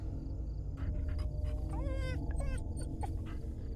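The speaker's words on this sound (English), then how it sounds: "Oh, no, that is the dog." A dog in the video game Fears to Fathom whimpers with a few short, rising whines over a steady low background hum.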